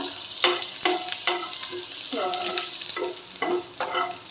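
Cumin and chili with asafoetida frying in hot oil in a pan, a steady sizzle broken by repeated stirring scrapes about every half second, close and fairly loud with no talk.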